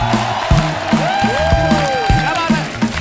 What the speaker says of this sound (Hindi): जोरदार तालियां गौरव के लिए